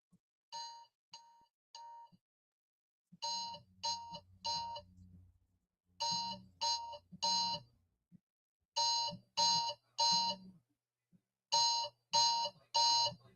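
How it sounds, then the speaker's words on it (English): An alarm rings in repeated groups of three bright electronic beeps, separated by short pauses, clear and fairly close, with faint low background noise. "The hell is that noise, Color? Alarm off, cat."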